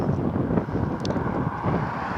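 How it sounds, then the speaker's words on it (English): Steady wind rushes and buffets across the whole clip, a low continuous roar with gusty swells and no voices. "it's getting windy, and I gotta go."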